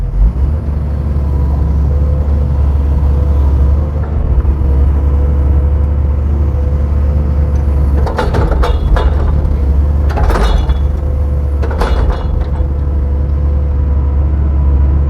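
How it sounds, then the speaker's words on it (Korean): A 2015 Doosan DX140W wheeled excavator idles at around 1450 rpm, its diesel engine giving a loud, steady low rumble throughout, broken by a few short bursts of higher-pitched mechanical noise near the end. "시동은 힘차게 잘 걸립니다. 엔진 소리도 좋습니다."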